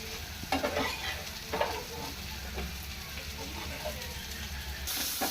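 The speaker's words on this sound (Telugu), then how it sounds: "వేగుతుంది కదండి, బాగా వేగింది కదా." Millet dosa frying on a pan, a steady close sizzle and crackle with a few soft scraping touches, heard alone without speech.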